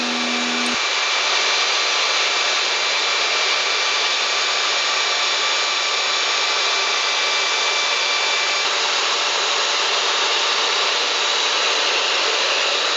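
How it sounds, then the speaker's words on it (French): A belt sander runs steadily over a freshly demoulded wooden piece, giving a loud, even, continuous abrasive roar with a brief click near the start and another partway through. "je démoule et je passe sur la ponceuse à bande"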